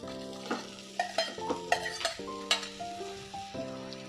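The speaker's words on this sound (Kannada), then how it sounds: "ನೋಡಿ, ಇದನ್ನೆಲ್ಲ 1 ನಿಮಿಷಗಳ ಕಾಲ ನಾವು ಫ್ರೈ ಮಾಡ್ಕೊಳ್ಳೋಣ." Masala frying in a pan for a drumstick fry, stirred steadily: a low sizzle under a series of distinct scraping and tapping strokes from a spoon, close up and with no talk.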